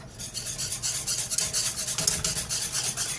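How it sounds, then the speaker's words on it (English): A spoon stirring raw unfiltered Florida honey into homemade yogurt, giving a close, steady rasping scrape that repeats in quick rhythmic strokes without pause. "And I just stir it as I add"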